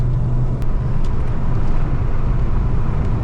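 A Peugeot 309 GTI 16 engine drones steadily while driving, a loud, close cabin hum with a constant low growl and road noise, unbroken for the whole stretch.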